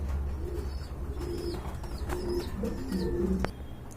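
Pigeons from a collection of Rajgolla fancy, Giribaz and racer breeds coo softly and repeatedly over a steady low background hum, with faint chirps scattered throughout.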